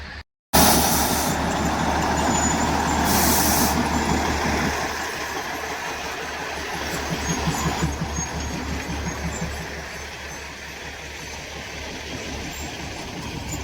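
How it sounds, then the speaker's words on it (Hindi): A small diesel-engine train on the narrow-gauge Matheran line, its engine droning and rumbling nearby at a steady level, with a low throbbing idle that eases slightly over several seconds. "डीजल इंजन है वो, छोटा सा।"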